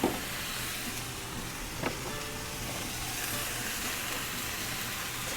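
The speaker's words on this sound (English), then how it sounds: "we're going to cook these mushrooms and the shallot" Mushrooms and shallot sizzle in a hot pan, a steady close hiss with a brief clatter near the start and another around two seconds, no voices.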